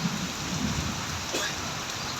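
Rain falls steadily after several days of intense heat, a close, even hiss of drops with a soft low rumble at the start and no voices.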